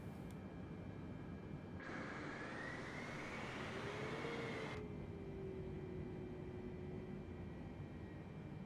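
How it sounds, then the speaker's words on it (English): A modded Boeing 747-8i taxiing toward the runway in a flight simulator, a steady low engine rumble with a faint whine that swells briefly mid-way, continuous and fairly quiet throughout. "So let's taxi on down to the runway."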